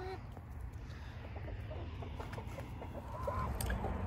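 Chickens on a farm clucking softly in short calls over a low rumbling background, fairly faint and scattered.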